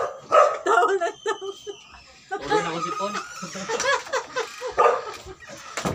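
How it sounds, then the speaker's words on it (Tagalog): A dog barks and yips in short bursts at close range, mixed with people talking and laughing nearby. "Ayun yung aso kasi hindi raw siya pinapakain"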